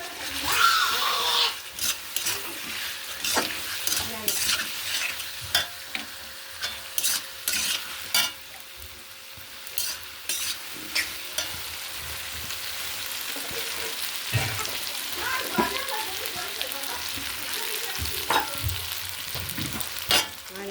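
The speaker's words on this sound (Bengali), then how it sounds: "চিকেন পেঁয়াজ আলু ভেজে নিয়েছি।" Chicken, onion and potato frying together in a pan, with many sharp scraping and stirring strokes over a low sizzle, close and uneven in rhythm, no voices.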